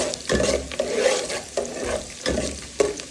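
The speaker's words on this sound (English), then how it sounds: "You fry the onion for a while." Onions fry in a pot for Nigerian jollof rice with a spoon stirring in repeated scraping strokes over a continuous sizzle, close and fairly loud.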